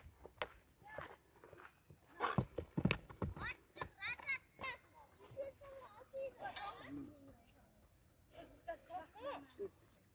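A tall horse walking, its hooves giving a clear, uneven clip-clop of distinct strikes, close by, while children's voices and talk carry in the background.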